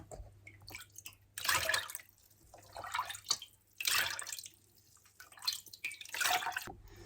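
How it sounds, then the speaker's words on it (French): Homemade sparkling lemonade is poured into a bottle through a pointed spout, giving bursts of close trickling and splashing liquid separated by short pauses. "C'est plus facile de verser comme ça, avec un bec pointu dans la bouteille"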